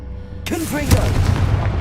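A Confringo fire spell cast in the Hogwarts Legacy game bursts with a sudden loud blast, followed by crackling swirls and a low rumbling tail that holds steady for over a second.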